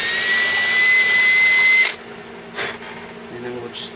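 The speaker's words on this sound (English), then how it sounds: "Try to keep my drill as straight as possible." A power drill reaming tuner holes in a guitar headstock whirs steadily at high speed for about two seconds, then cuts off, followed by faint handling clatter and quiet movement.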